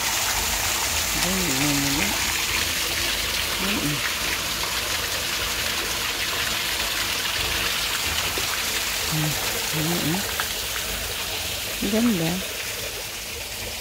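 Flowing water from a hillside stream: steady broadband rushing and trickling throughout, fairly close, with someone talking intermittently over it.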